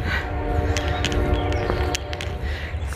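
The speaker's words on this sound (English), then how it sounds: "Train, traffic noises," A train passes near a wooded hiking trail on the Appalachian Trail, a steady rumble with a sustained horn tone and sharp clanks, heard continuously at moderate distance without speech.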